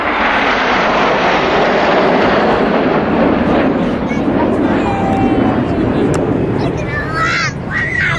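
Red Arrows jets roar overhead in a flying display at the Southport air show, a loud, sustained engine rumble that fills the whole clip, with a commentator talking over it.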